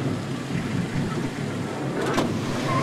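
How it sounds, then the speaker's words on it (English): Rain falls in a deserted alley in the video game The Secret World, a steady soft hiss of moderate loudness, with a brief brighter swish partway through and no talking. "Raining."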